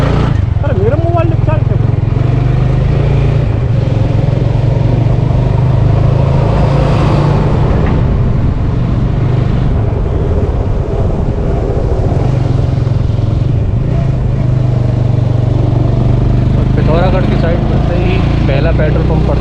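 A motorcycle engine drones loud and continuous while riding a mountain road toward Pithoragarh in Uttarakhand, mixed with heavy wind rush, and a rider talks over it.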